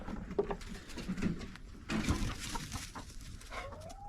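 Chickens cluck in short, irregular bursts nearby, several soft calls overlapping with a bit of rustling.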